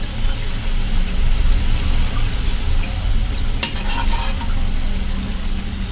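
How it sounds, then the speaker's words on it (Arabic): Oil with starch at the bottom of a pan boils hard and steadily, giving a dense, continuous loud sizzle with a brief clink partway through. "قاعد يغلي كتير قوي، وادي النشا من تحت"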